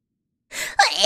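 A single sharp sneeze, loud and close, with an indrawn breath just before the main burst, heard alone with no talking.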